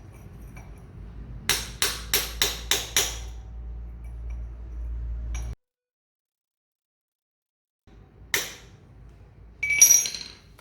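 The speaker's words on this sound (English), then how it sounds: "Basic stuff, you just need a hammer" A safety nut on a Royal Enfield Himalayan is hammered flat: five quick, evenly spaced metallic blows ring out up close, then silence, followed by a couple more clanks and scrapes.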